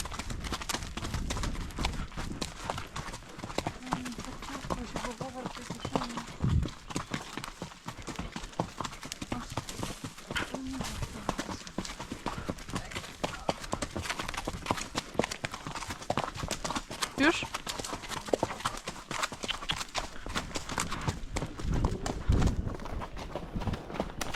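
Hooves of a horse being ridden clip-clop in a fast steady rhythm throughout, close and prominent, with occasional brief speech from the rider.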